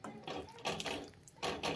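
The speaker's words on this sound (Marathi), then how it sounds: "यामध्ये थोडं पाणी घालून घेऊया" Water poured from a glass into a pan of brinjal curry being cooked: short, close splashing bursts in several uneven pulses.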